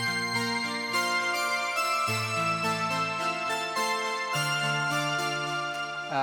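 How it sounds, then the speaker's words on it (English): The Marion synth doubled across two tracks, one transposed up an octave, plays a melody as full, bright sustained chords that shift every couple of seconds, with no voices. "And then I add a second layer of the Marion."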